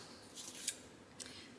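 Scissors snip through cardstock during a paper-craft leaf project, two faint, quick cuts close by, spaced about half a second apart in a quiet room.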